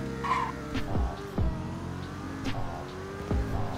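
A BMW X7 M50i engine revs up through gear changes during a 0-60 run in the Roblox game Greenville, with a rising drone repeatedly dropping at each shift, close and continuous with no talking.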